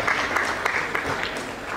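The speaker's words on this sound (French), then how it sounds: "Si elle est là, sous vos applaudissements" A crowd at a ceremony for top baccalaureate graduates in Bargny applauds a student called up, a brief, steady burst of clapping with a few sharper individual claps standing out.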